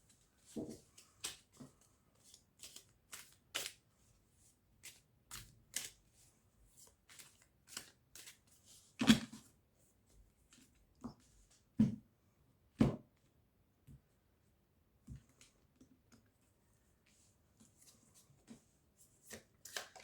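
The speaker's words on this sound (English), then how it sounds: "Now I'm going to pull out 2 cards each for the month of March and April from the Tea Leaf Fortune Telling cards." Tea Leaf Fortune Telling cards shuffled and drawn by hand, producing a string of short, crisp riffles, flicks and taps at irregular intervals, some louder snaps standing out against quiet gaps, with no talking.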